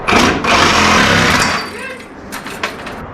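An angle grinder whines loudly against metal for over a second while fabricating VW Baja Bug rear shock mounts, then winds down, leaving quieter clatter and brief scraping sounds.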